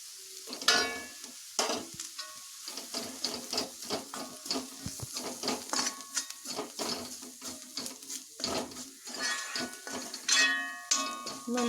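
Onions stirred in a pan with chilli, pepper and turmeric powder for a Kerala-style egg roast, giving repeated scraping and clinking strokes over a steady low sizzle, close and moderately loud with no talking.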